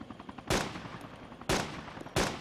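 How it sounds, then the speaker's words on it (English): AK rifle fire in DayZ Breaking Point: three sharp, loud single shots spaced roughly a second apart, each with a short echoing tail over faint background noise. "I can hear the rounds coming past me, it's AK."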